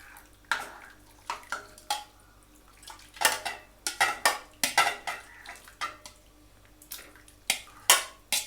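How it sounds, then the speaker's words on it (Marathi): A metal spoon scrapes and clanks against a pan in quick, irregular bursts as chicken is added and stirred into gravy, with soft sizzling between the strokes. No one speaks. "आता मी त्याच्यामध्ये"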